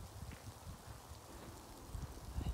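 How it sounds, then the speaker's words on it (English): Hail falling outdoors in Stockholm, a faint, steady patter of small impacts heard from indoors, continuous and soft throughout, with no one speaking. "I think it's snow or hail. I'm not sure. It's hailing."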